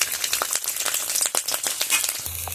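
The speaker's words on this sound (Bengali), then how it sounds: "ভেজে নিচ্ছি।" Dried red chillies fry in a hot pan, giving a dense, steady crackle and sizzle of popping bursts close by, with no voices over it.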